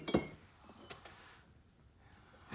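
A single faint glass clink rings out near the start, followed by quiet room tone with a couple of soft secondary taps.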